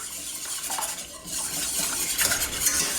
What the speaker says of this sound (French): Je mélange comme il faut.